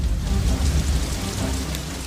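Steady, dense rainfall hisses evenly over a low rumble, loud and continuous throughout, with no speech.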